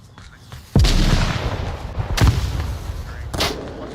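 In a VR shooter video game, a heavy grenade blast booms up close, followed by further loud gunshot thumps and a rushing rumble that lingers for several seconds.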